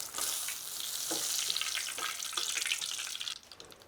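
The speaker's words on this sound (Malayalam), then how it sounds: "അപ്പോൾ നമ്മുടെ മീൻ നല്ലോണം പൊരിച്ചെടുത്തിട്ടുണ്ട്." Fish pieces for fish 65 bubble and sizzle in hot oil, a steady loud hiss with crackling spatters and stirring scrapes that drop away abruptly near the end.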